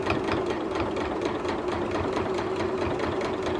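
A sewing machine runs steadily, stitching a seam on a tunic sewn from a Butterick 5861 pattern with a tuck band and placket. Its rapid, even needle rhythm hums close and unbroken throughout, with no talking.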